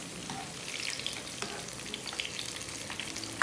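Spicy chicken pakoras fry in hot oil with a steady, close crackling hiss and scattered pops throughout, and a sharper spatter near the end.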